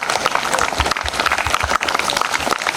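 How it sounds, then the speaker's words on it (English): An audience claps steadily at a school Republic Day program, a dense continuous burst of applause filling the short moment without pause. "1, 2, claps go."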